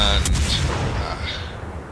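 HMS Belfast's naval guns firing a salvo in World of Warships, a heavy booming report at the start rolling into a long fading rumble.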